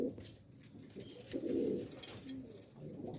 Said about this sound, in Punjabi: ਇਹ ਜੀ ਚਪੜਾ ਕਬੂਤਰ ਲੱਗਾ ਗਾਂ ਦੋਸਤੋ।